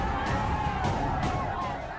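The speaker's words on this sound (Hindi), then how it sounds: "भीड़ का ये शोर सुनिए" Angry crowd massed outside a police station in Beldanga, Murshidabad, West Bengal, a dense continuous roar of many voices with a few louder swells of shouting, close and unbroken.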